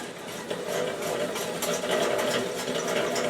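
Hand-cranked honey extractor with a big old gear and handle, holding two honey frames, turning in a smooth rhythmic mechanical whir with faint gear ticking, steady and close, no talking.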